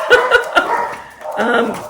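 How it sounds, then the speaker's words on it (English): Three miniature dachshunds bark in quick, yappy bursts, close by, with a voice talking underneath. "the 3 miniature dachshunds who you can hear barking"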